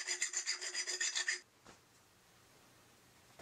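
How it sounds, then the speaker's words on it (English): A metal hand file scrapes solder and burrs from copper tubes in quick, rhythmic rasping strokes, bright and close, about a dozen passes, then stops, leaving near silence. "I remove any solder or burrs with a file"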